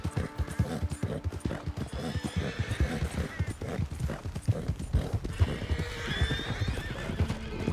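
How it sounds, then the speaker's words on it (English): A herd of horses gallops past in the Red Dead Redemption 2 video game. Dense, rapid hoofbeats carry through the whole stretch, with loud neighs and whinnies breaking in over them, and a voice is faintly audible in the background. "Herd of horses."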